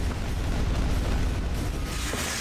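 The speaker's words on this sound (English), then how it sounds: "Am I supposed to jump inside the whole explosion?" A dense, loud explosion in the video game Quake 2 rumbles continuously with heavy low-end boom and no pause across the short stretch.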